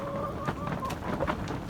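Chickens cluck and murmur in a plastic-wrapped winter run, several short calls overlapping at moderate distance over a low background hum.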